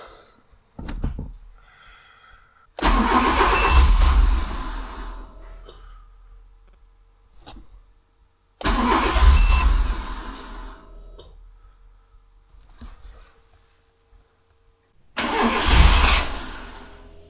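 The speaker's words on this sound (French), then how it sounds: "Ça démarre mais ça cale instantanément." A Fiat Seicento SPI with a turbo engine running on E85 cranks and fires three times, each start roaring briefly before stalling into quiet, with short clicks and bumps between attempts, loud and close.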